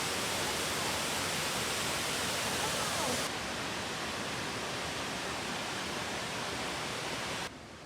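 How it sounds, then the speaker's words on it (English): Steady broadband rushing of a waterfall in Wales, constant and fairly close, dropping slightly in level partway through and again at the end. "There's a waterfall over here."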